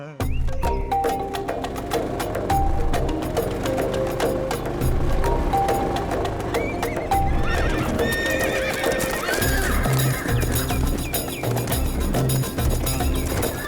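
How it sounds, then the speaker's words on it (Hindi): Several horses whinny and neigh repeatedly while hooves clip-clop steadily over a busy background score in a Hindi film scene, loud and continuous throughout. "इतने सारे घोड़े यहाँ कैसे?"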